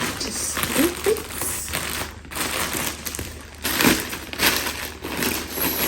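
A parcel package is snipped open and unwrapped with close, loud crinkling and crushing of plastic wrapping, coming in irregular bursts throughout.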